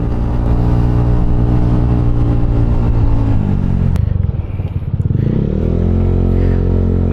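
Yamaha scooter engine running on Caltex Havoline SuperMatic 4T oil, a loud steady drone that dips and lugs midway, then revs and climbs back up, with no talk over it.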